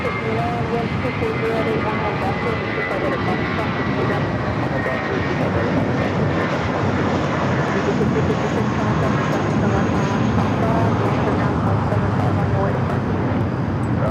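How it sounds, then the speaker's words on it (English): A Spirit Airlines jet roars down the runway on takeoff at LAX, a loud, sustained engine rumble and whine holding steady throughout, with a voice talking over it. "Spirit flight taking off, heading to Houston"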